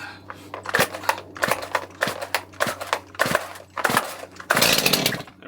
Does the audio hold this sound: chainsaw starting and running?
yes